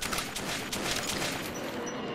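Gunshots in the Metro 2033 video game crack in a rapid, dense run of repeated shots, moderately loud and fairly close, tapering off toward the end of the short burst.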